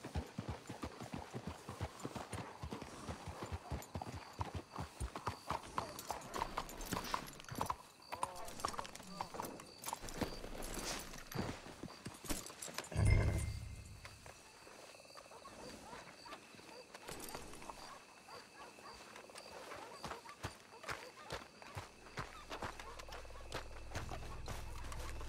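Horses' hooves clip-clop on the ground in Red Dead Redemption 2, a quick rhythmic stream of hoofbeats that slows and fades after the midpoint, with voices talking and faint ambient game sounds.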